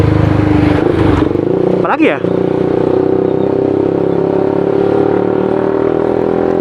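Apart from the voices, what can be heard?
motorcycle revving with custom exhaust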